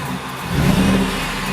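A Ford F-150 with a 5.0 engine and its muffler deleted revs up close by, its low exhaust rumble swelling midway through a short burst and then settling to a steady drone.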